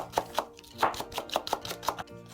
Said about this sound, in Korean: 대파 한 대도 송송 썰어서 준비합니다